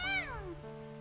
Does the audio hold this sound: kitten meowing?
yes